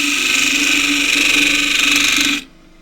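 A skew chisel scraping straight into the radius of a very dry old piece of jacaranda on a lathe, giving a loud, steady, high whining scrape that stops abruptly after a couple of seconds.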